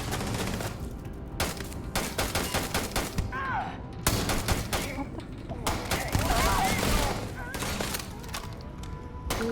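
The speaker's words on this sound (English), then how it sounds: "we've got some shooting" Video game gunfire crackles in repeated volleys throughout, with thumps and scattered impact sounds, layered under game dialogue and background score.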